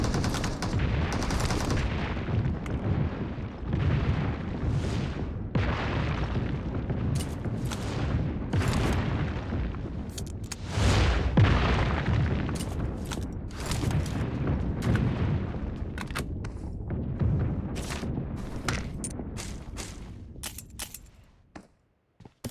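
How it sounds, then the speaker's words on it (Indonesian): Gunfire from a Scar L rifle in a battle royale shooter, rapid bursts and single shots crackling near and far, some heavy booms mixed in, fading out at the end. "ada tembakan menggunakan Scar L dari player bernama Aignova"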